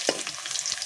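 Onions frying in a pan, giving a steady close sizzle with faint stirring scrapes, no talking.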